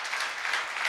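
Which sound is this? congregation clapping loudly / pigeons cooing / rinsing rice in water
congregation clapping loudly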